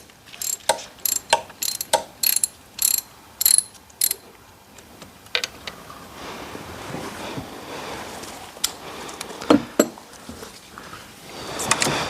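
A ratchet wrench clicks in short bursts while loosening a glow plug on an engine, several distinct rapid clatters followed by quieter mechanical handling noises, close by with no talk.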